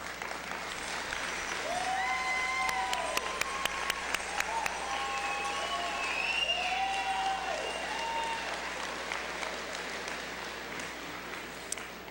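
A graduation crowd at Salish Kootenai College claps steadily for the full-time and part-time faculty, a dense sustained wash of applause lasting throughout, with faint vocal tones and whoops drifting over it.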